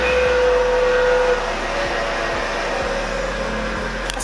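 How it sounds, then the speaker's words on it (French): Grass is being cut outside a window, heard as a steady, muffled motor drone with a faint whine, fairly distant and continuous with no talking. "ils sont en train de couper l'herbe en fait"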